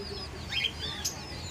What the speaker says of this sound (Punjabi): ਇਹ ਚੂਚੇ ਆ ਕਲਰ ਕੀਤੇ ਹੋਏ ਆ